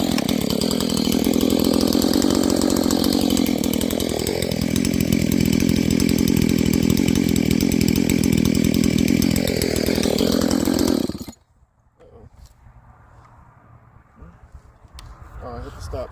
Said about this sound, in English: now we have a decent chain on the stock saw with a muffler mod